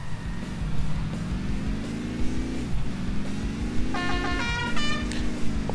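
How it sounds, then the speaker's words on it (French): A garbage truck driving in the Simpsons Hit and Run video game gives a steady engine drone that rises and falls in pitch, with a short run of bright horn toots near the end. "Vachement vite pour un camion poubelle."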